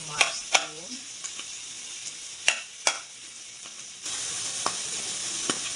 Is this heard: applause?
no